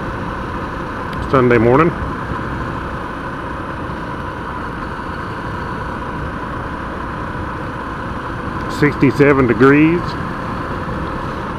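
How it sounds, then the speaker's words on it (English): Steady engine drone and wind from a Honda CRF250L dual sport motorcycle cruising on back roads on a sunny Sunday morning, a constant low hum throughout with someone talking briefly near the start and end. "I'm riding my motorcycle to church"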